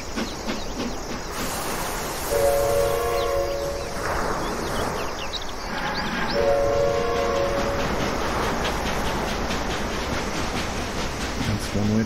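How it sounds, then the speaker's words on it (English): A train in a Franz Kafka video game rumbles along with continuous rolling clatter, and its horn blows twice in sustained tones over the steady mechanical noise. "That's one way to move the train."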